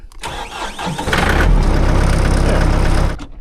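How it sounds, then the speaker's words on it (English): A diesel tractor engine cranks briefly, catches and settles into a loud, close, rumbling run for about two seconds before cutting off. "This tractor really isn't glow plug dependent. It starts real easy."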